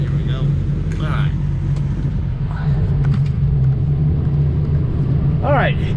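A 2006 Ford F350 Lariat 4x4 diesel truck drives along, a steady loud low engine and road rumble heard from inside throughout, with someone talking over it.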